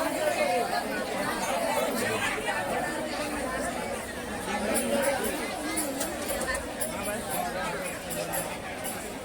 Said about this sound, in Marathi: बघा किती तुफान गर्दी आहे तिने